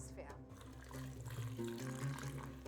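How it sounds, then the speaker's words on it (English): Water poured into a crock pot around pieces of beef for a Moroccan beef tagine with prunes, a steady liquid pour and splash lasting a few seconds, fairly quiet, with a voice talking over it. "We never pour the water directly on the meat, only around it."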